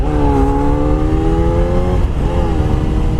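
A motorbike engine revs steadily with a rising, whining pitch, dips briefly, then climbs again, loud and close throughout.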